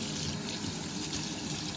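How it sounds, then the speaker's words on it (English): Tap water runs steadily while white rice is rinsed in a kitchen, a continuous close splashing trickle with no talking. "That comes off when you rinse the rice."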